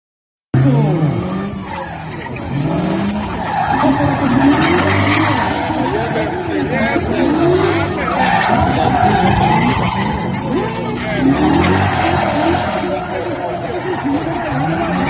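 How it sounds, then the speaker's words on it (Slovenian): Car drifting with screeching, skidding tires at a gymkhana event in Buzet, the squeal wavering and sustained near the listener over a steady engine roar. "Ogrevanje za finalni battle začnem z majhnim driftom, s Paljanom se pogledava iz oči v oči"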